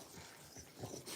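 Quiet, close dog panting with soft breathy rhythm and faint whimpers, low in level with no talk.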